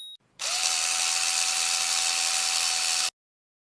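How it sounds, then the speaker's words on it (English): A Bosch power drill runs in one steady, continuous burst of nearly three seconds while driving screws into wall plugs. The whirring motor holds a constant pitch and loudness, starts abruptly after a brief silence and cuts off sharply. "Grab the drill to gradually drive the screws into the wall plugs until they are snug and secure."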